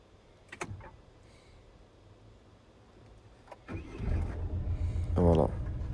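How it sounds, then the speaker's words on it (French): Peugeot or Citroën car doing an emergency start without keys: a couple of faint clicks and a relay tick, then the starter cranks and the engine catches and settles into a steady idle. "Véhicule démarré."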